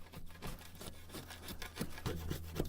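Back of a saw scraping dried glue off plasterboard joints, steady rhythmic rasping strokes close to the listener, repeating about every half second, with no talking.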